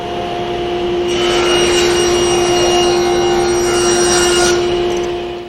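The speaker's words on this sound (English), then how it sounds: "Now we'll be passing the board through with the outside edge against the fence and the inside face against the saw table." A table saw cuts a rabbet in a board, the blade's steady whine rising into a louder cutting roar for a few seconds and then falling back to the free-running hum.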